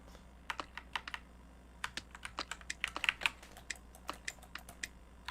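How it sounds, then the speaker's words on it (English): Computer keyboard keys clicked repeatedly while navigating an indie game's menus, with sharp irregular taps in quick bursts, fairly close and alone without talk. "you can probably hear me clicking a lot of buttons to try to see"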